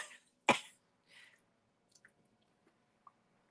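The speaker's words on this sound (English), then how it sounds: "I have to have a drink. I got a cough." A single sharp cough close to the mic, followed by a softer throat sound and a few faint small noises in an otherwise quiet room.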